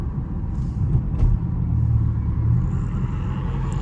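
A Dodge Charger Scat Pack V8 on a late-night drive, its engine a steady deep rumble with a brief rise in revs, heard from inside the car with no talk.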